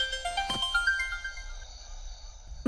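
A phone ringtone plays a short melodic tune of rising electronic tones, fairly close, then fades out before a brief bump at the end, in a Hindi-dubbed horror film.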